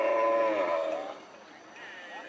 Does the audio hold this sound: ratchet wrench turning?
no